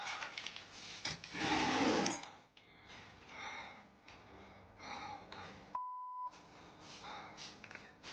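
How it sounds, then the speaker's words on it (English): A fire alarm gives a single clear, steady electronic beep midway, set among quieter rustling and breathing noises in a dark house at night. "The man is awakened in the middle of the night by the sound of the fire alarm."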